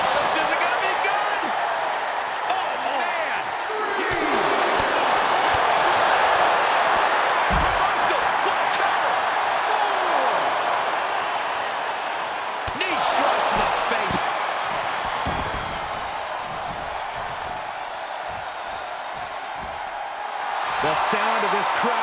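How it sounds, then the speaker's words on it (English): A wrestling arena crowd roars and cheers continuously, loud and dense, swelling and fading with sharp slams and thuds cutting through, while a commentator talks over the noise. "The sound of this crowd is deafening, and he's asking for more."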